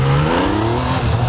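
A 2018 Yamaha MT-09 motorcycle accelerates hard, its engine note climbing steadily in pitch as it revs up, loud and close with no talking.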